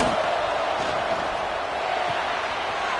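A steady, dense roar from a college football stadium crowd during a Florida game, loud and continuous without breaks.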